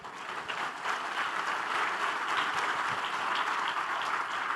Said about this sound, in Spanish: queremos darles un saludo a través de un aplauso